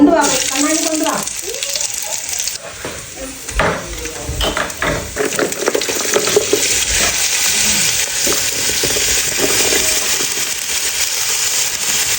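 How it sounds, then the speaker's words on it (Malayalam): Masala for beef curry fries in hot oil, a loud constant sizzle with frequent scraping stirs close by, after a voice speaks briefly at the start. "ഞാൻ ഇത് ബീഫ് കറി വെച്ചുകൊണ്ടിരിക്കുകയാണ്"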